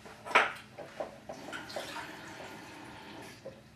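Water pours into a skillet holding red quinoa with a short splashy burst at the start, then a softer steady trickle and hiss, without talking.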